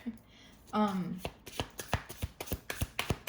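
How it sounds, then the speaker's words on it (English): A brief voiced sound, then a run of crisp, rhythmic slaps and riffles as tarot cards are shuffled vigorously close by, roughly a dozen quick strikes. "I don't know why I feel like I need to shuffle these again, like hardcore."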